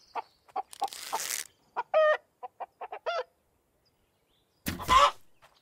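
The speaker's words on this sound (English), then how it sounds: "So many chickens around here, right?" Short electronic chicken clucks from the video game Hold Your Own in quick bursts, interspersed with a few whooshing effects and silences, crisp and close.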